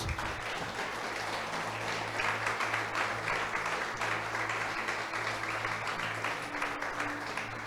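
Sustained, full applause from a church congregation at a worship service, many hands clapping in a thick continuous roar that holds steady, with a low hum of voices and instruments underneath.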